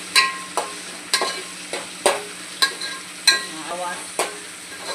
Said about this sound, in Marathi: आता आपण इकडे वाटण केलेलं अद्रक मिरची लसणीचं ते आपण घालून घेऊ. तेल आपल्याला 2 मिनिटासाठी असं व्यवस्थित परतवून घ्यायचं.